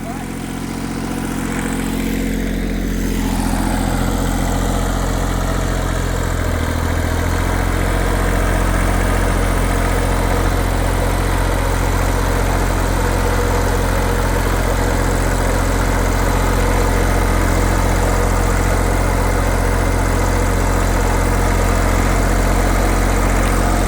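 Engine of a 1984 Kubota L235 tractor idling steadily close by, a continuous low rumble that swells slightly early on and then holds even throughout.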